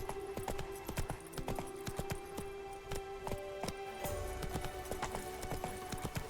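A horse gallops in the video game The Witcher 3: Blood and Wine, its hooves making rapid, even clip-clop beats over a steady background hum, with a brief whinny-like tone in the middle.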